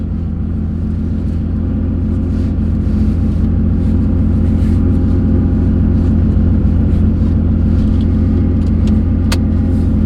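A loud, continuous Porsche 911 engine drone with a deep steady rumble, recorded from inside the car while driving; the car had previously been flooded.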